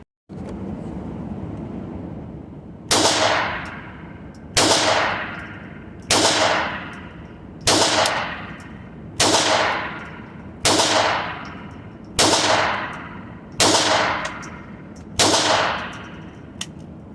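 A Taurus TX22 Compact pistol fires during range testing, ten sharp shots spaced evenly about a second and a half apart, each loud crack followed by a short decaying echo.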